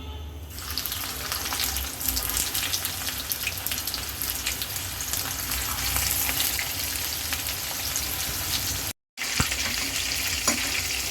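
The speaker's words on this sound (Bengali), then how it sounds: "এখন আমি চাপগুলো দিয়ে দিব, বিফ চাপ।" Beef chaap pieces sizzle steadily in hot oil in a frying pan, a dense continuous crackle that holds loud throughout, cut by a brief silent gap near the end before resuming.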